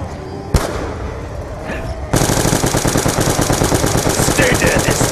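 Gunfire in the Black Ops 2 Origins zombies mode, a single sharp shot, then after a short pause a loud, sustained burst of rapid automatic fire that continues to the end.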